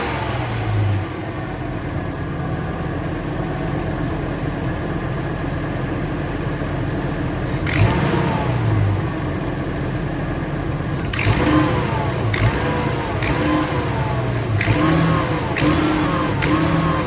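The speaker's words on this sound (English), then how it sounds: "audio test of the exhaust leak before I install it and then after" A Ford E-Series shuttle bus engine with an exhaust manifold leak runs close by, a steady idle rumble with a ticking leak, broken by several sharp revs that rise and fall.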